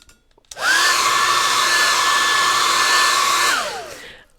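Malfunctioning heat gun blowing unusually loud cold air, starting abruptly with a rising whine, holding a steady loud roar with a high tonal whistle for about three seconds, then winding down.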